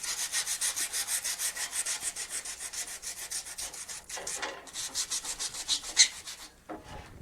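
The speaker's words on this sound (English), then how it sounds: "180 sand grit to sand it down" Close, steady back-and-forth scraping of 180-grit sandpaper worked by hand over a wooden frame, in a regular rhythm of strokes with a brief pause and a few sharper scuffs near the end.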